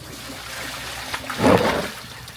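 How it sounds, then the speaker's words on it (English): Rainwater collected in a bucket beside a garden pond is poured out onto the ground, a steady splashing gush that swells briefly midway, heard up close with no talking. "So I'm just gonna dump this water out here."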